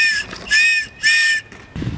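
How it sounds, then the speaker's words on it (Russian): Shrill whistle fitted to a rescue life vest, blown in three sharp bursts, the middle and last blasts long and piercing, close and loud with short gaps between them. "Имеет свисток."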